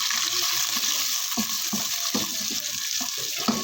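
Tomatoes and chopped onions sizzle in a pan for aloo qeema, a steady close hiss of frying broken by light clinks and scrapes of stirring, with no talking.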